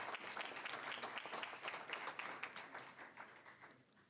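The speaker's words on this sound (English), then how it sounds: "Another round of applause, please, for our outstanding honorees." A room of attendees at a town board meeting claps for honorees, a fairly faint but continuous round of applause that gradually thins out.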